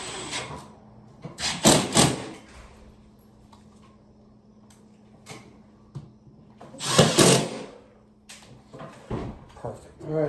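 A power drill drives screws in two short bursts of whirring during a heat pump installation, separated by quieter handling noises and clicks in a small indoor space.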